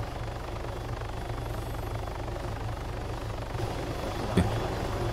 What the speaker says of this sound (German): Warte mal, da kommt ein Heli